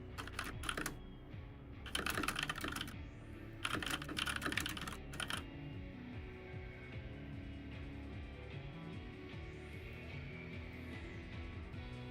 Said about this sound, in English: I was typing, so that probably was what it was.